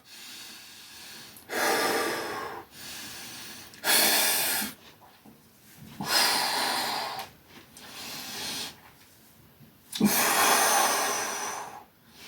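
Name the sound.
heavy breathing during bullworker isokinator exercise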